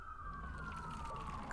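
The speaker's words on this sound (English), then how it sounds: "Follow the sound of sirens." A faint, distant siren wails with a slowly falling tone above a low, rumbling background.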